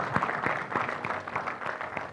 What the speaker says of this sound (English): Well, a round of applause for the journalists here, nevertheless.